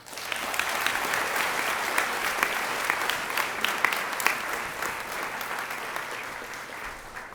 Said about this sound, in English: let's give them another big round of applause for their remarks